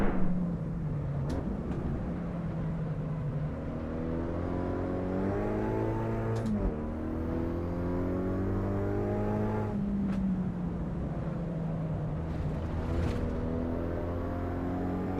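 A race car in the Assetto Corsa Evo racing game drones steadily, its engine note climbing and dropping with shifts while tyre noise and chassis rattle run underneath, with a few sharp clicks along the way.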